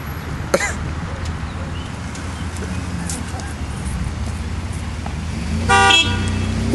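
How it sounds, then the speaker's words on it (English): A car horn sounds briefly in traffic, with a short toot early and a louder blast near the end over steady road and engine noise. People cough and stir nearby. "Oh, someone honked."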